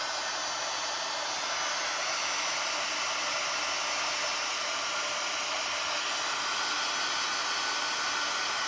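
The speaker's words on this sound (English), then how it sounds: "I hate doing the dryer, but we're going to do it real quick." A hair dryer runs continuously on a Valentine's-themed tiered tray craft project, a loud, steady, close-up blowing roar that fills the whole stretch with no talk.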